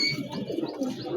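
Young male and female pigeons, just bathed with a spray, coo softly and continuously in a coop for a brief moment, close by with no voices.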